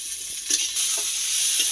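Chopped onion and tomato frying in a pan, a steady close hiss of sizzling oil with faint stirring scrapes, no talking.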